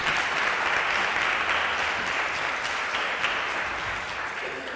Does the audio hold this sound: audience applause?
yes